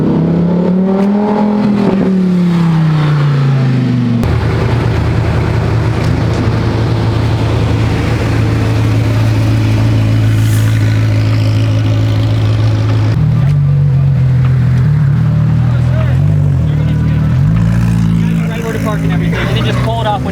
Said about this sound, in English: Cars are coming in now.